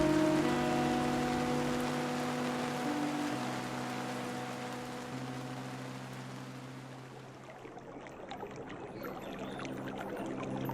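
Rain pours steadily outside a moving car, a dense hiss that swells toward the end as sustained tonal hums fade out, with no voices present.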